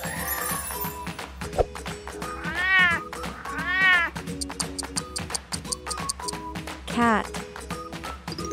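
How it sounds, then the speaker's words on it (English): A cat meows several times, drawn-out and close, over a bouncy tapping musical backing with a voice talking. "Cat."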